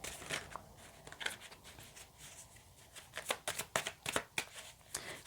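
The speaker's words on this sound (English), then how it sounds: "If the cards will shuffle properly." Tarot cards are riffled and shuffled by hand in a quiet room, giving bursts of soft, crisp flutters, some quick and clustered, with no talk.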